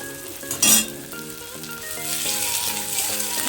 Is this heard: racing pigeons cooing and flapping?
no